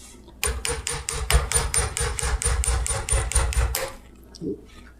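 A hammer drives a wedge into a tool handle with about fourteen rapid, evenly spaced blows, loud and close, over roughly three and a half seconds, then stops.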